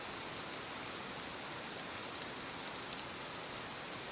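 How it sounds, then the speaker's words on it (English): Steady rain falls on a glass greenhouse, a dense, even hiss of drops with no pauses, close and moderately loud, with no voices. "The greenhouse was safe in the rain."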